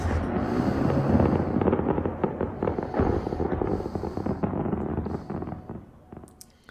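A C-RAM weapon system fires in a dense, rapid stream of cracking bursts, loud and sustained at first, then tapering and thinning out toward the end.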